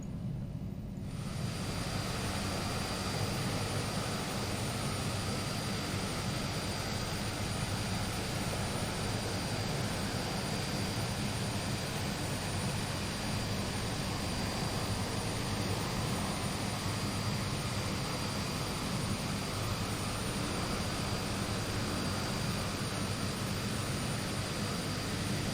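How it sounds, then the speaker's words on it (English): Propeller turbine of an Aerosoft Twin Otter in a flight simulator spooling up, a loud, steady broadband roar with a constant high whine running throughout, with no talk over it. "that is our second engine now spooling up"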